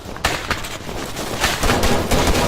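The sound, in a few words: gunfire in the video game Arma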